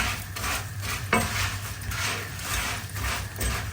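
Mixed vegetables frying in salted butter in a pan are stirred, giving a soft continuous sizzle with scraping utensil strokes and one sharper clink, close up and without speech.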